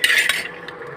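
Peanuts dry-roasting in an unoiled pan rattle and scrape as a utensil stirs them, a brief, close burst of dry clatter that fades quickly.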